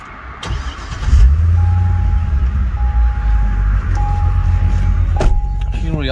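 A 2007 Chevrolet Corvette engine cranks and starts, then settles into a loud, deep, close idle with a faint steady whine over it.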